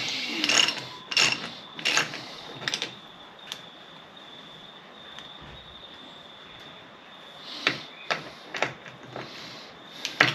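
A socket wrench ratchets in short repeated bursts while loosening spark plugs on a Mercury 15hp two-stroke outboard, with clicking strokes clustered at the start and end and a quieter pause between, close and alone without talk.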